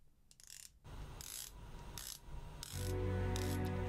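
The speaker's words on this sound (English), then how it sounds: "And that's the bezel action." The bezel of an Omega Seamaster Diver 300 watch is turned by hand, giving a few quiet clicky ratcheting bursts in quick succession, close up with no talking.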